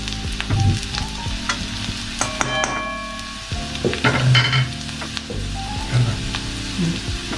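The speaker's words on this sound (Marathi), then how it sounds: "आचवर, कमी फ्लेमवर मिरची भाजणार, तळणार" Chopped green chilies fry in oil over a low flame with a steady close sizzle, and a spoon scrapes and clinks against the pan now and then.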